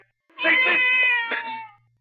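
Single drawn-out cat yowl used as a radio drama sound effect, close and loud, a wavering nasal cry rising then trailing off over about a second and a half, heard alone.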